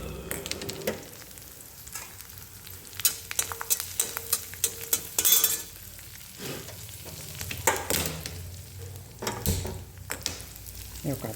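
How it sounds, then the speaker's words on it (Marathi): Coriander and curry leaves roast in a small amount of oil, a light sizzle under repeated sharp scrapes and clatters of a spoon stirring in the pan, heard close and in irregular bursts. "आता हे कोथिंबीर कढीपत्ता चांगला भाजून घ्यायचा. कमी तेलामध्येच भाजून घ्यायचा."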